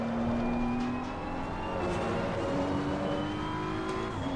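GT3 race car in Assetto Corsa Competizione driven on the throttle out of a late-apex corner, engine note rising steadily and close, with rising gear-change tones and faint tire noise, no voices.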